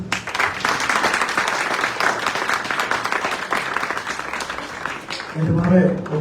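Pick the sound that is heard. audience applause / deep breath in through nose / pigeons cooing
audience applause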